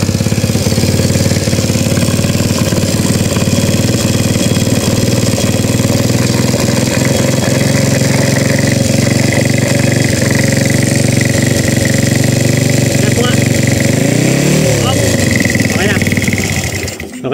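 A SYM Bonus 100 motorcycle fitted with a 53 block, 6.8 cam and 28mm carburetor runs loud and close, its engine buzzing steadily with a brief rev near the end and voices heard under it.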